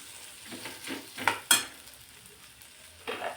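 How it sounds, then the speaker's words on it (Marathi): Unpeeled potatoes are stirred into a spicy masala with green beans, giving a soft low sizzle broken by a few sharp scrapes and clinks of a spoon against the pan, close and quiet with no voices. "आता तो सुद्धा या मसाल्यामध्ये व्यवस्थित मिक्स करून घेऊ"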